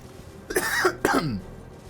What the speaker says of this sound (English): Sorry, I just put my cough onto an effect instead of onto mute.